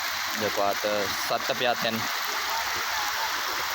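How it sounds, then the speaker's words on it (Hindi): Heavy overnight rain falling in Sukkur, a steady broadband hiss and patter that runs throughout, with someone speaking over it in the first half. "उहो भी जेको आहे त हिन महिल ताईं तेज़ बरसात पई हले।"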